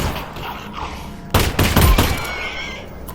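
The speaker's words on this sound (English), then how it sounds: "You forget that your gun fires as quickly as you pull the trigger." Gunfire in the VR game Half-Life: Alyx, a few sharp shots bursting out in the middle of the clip over quieter game ambience, loud and close.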